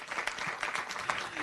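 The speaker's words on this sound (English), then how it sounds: "Big applause, everybody" Brief applause at a council session, a short burst of many hands clapping at moderate volume with a voice faintly mixed in.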